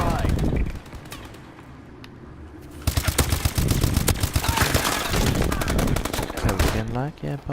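Rapid automatic gunfire in the shooter game Call of Duty: Advanced Warfare during a Hardpoint match, loud sustained bursts of machine-gun fire with short gaps, under a player's voice.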